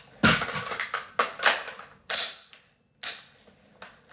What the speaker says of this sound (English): If I fail to properly seat the magazine while I reload, it can have a tendency to look something like this